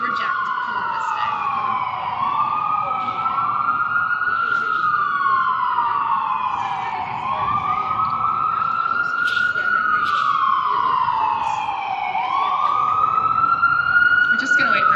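A loud emergency vehicle siren wails in repeated rising and falling sweeps as it passes a Philadelphia street gathering, continuous and close, with traffic noise underneath.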